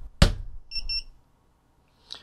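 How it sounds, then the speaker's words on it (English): A ViFly Beacon drone crash alarm goes off after a hard knock against a table: one loud thump, then about three quick, close, high electronic beeps, followed by quiet and a faint later chirp. "The next mode then is how to alarm when detecting a big crash."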